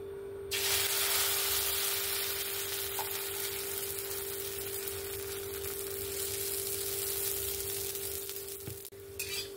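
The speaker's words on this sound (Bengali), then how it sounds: "এবার আমি এরকম করে সবগুলোকে ভেজে নেব।" Lentil fritters (bora) sizzling in hot oil, a steady, close frying hiss that runs almost unbroken throughout, with a faint low hum beneath and a brief clink near the end.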